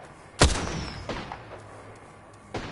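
A single sharp gunshot from the Apex Legends video game cracks out loudly, followed by fainter distant shots and a final softer report.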